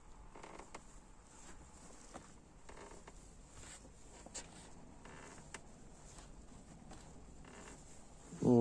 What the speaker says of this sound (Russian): Кузов играет, и получается вот такой скрип.